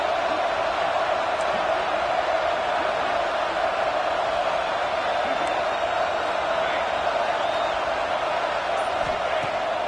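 Football stadium crowd at a Texas at Ole Miss game roars steadily before a third down, a dense, continuous wash of cheering with no break, filling the whole stretch.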